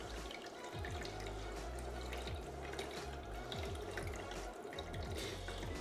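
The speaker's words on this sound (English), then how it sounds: "But right now what's happening is filling the water into the ice maker machine" Water pours into a countertop ice maker machine, a steady trickling and splashing fill with a low mechanical hum underneath, close and constant.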